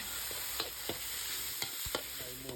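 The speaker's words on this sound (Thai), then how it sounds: "อันนี้ก็จะเป็นพริกลาบนะคะ หาซื้อได้ตาม ท้องตลาดทั่วไป เราก็จะผัดพริกให้หอมนะคะ" Larb chili paste stir-fried in vegetable oil in a pan, with steady sizzling and a few distinct scrapes and stirring clicks spread through, continuous and close with no talking.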